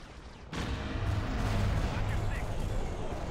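Heavy explosions roar through a Star Wars space battle game, a sudden loud blast followed by sustained rumbling booms and crackling debris, with a voice speaking underneath.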